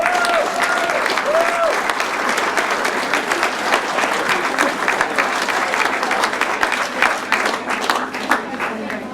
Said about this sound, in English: Big round of applause, please, for the winner, Peter Carlson.